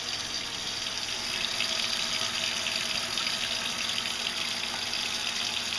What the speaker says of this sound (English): Sometimes while my breakfast is cooking, I go ahead and wash up my pan, so I don't have to do it later.